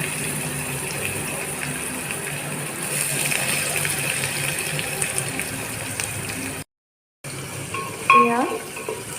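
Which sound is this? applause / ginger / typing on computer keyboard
ginger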